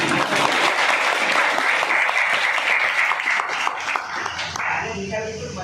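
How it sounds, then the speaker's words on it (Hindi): Students at a Teachers Day school program break into loud, sustained applause, a dense wash of clapping close to the microphone that eases slightly toward the end, with voices mixed in. "तालियां बजा"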